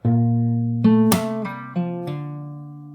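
Slowly, on a close acoustic guitar, a short fingerstyle phrase from the start of a song sounds as a low held bass note and a handful of separate plucked notes and one bright strum, each left to ring.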